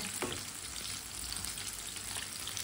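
Pakoras frying in hot oil, a steady close sizzle with soft bubbling crackle running evenly throughout, with a faint stir or turn near the start.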